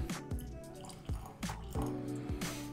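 Yamazaki 18 Japanese whisky is poured into a glass, with faint, close liquid glugs and drips arriving in a few uneven bursts with no talk.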